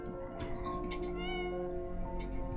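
A cat meows in a video game, a few short mewing calls rising above a steady hum of game music and background sound, fairly close and clear.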